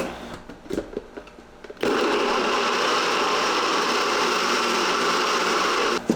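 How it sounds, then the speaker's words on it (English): A NutriBullet blender whirring through tomatoes, scotch bonnet, habaneros and onions, starting after a few light clicks and handling noises and then running as a loud, steady high-pitched whine until it cuts off near the end. "I'm going to use my NutriBullet. We're going to blend up tomatoes, a scotch bonnet, we have habaneros in substitute, and onions."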